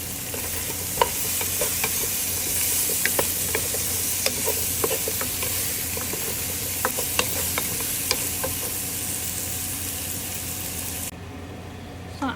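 Mushrooms stir-fry in a pan with already fried onions and shrimp, a loud continuous sizzle broken by frequent sharp clicks of a spatula stirring, which briefly quietens near the end.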